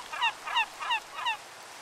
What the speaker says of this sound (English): Here, come here, you stupid seagull.